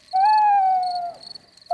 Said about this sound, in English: That's an owl.